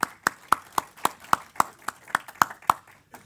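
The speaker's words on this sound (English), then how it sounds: "Can I have a big round of applause for our panelists?" Sparse hand clapping at an investment and mining-market conference panel session, a dozen or so sharp, evenly spaced claps in a steady rhythm, close and distinct rather than a dense wash of applause.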